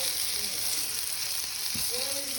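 Flour being stirred into fat in a pan while cooking pheasant, a steady bright sizzle of frying with a brief scrape of the utensil near the end.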